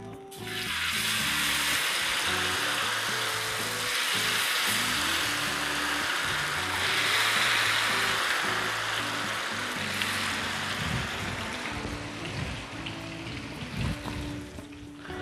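Steady, dense sizzling of prawn fritter batter frying in hot oil, loud and close, with soft bubbling and occasional clinks throughout.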